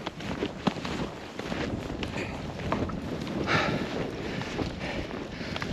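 Strong wind gusts across a snowy lake covered in light powdery snow, a continuous rushing roar with buffeting bursts on the microphone, loud and unbroken throughout.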